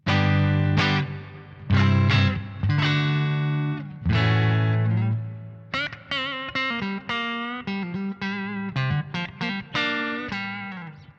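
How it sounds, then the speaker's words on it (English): Electric guitar run through an Eno reverb pedal on its room setting with all knobs at midpoint, slightly distorted; sustained chords then quicker picked notes, each tail blooming into a short roomy reverb, loud and alone. "So you can see it adds quite a nice sort of bit of reverb to that"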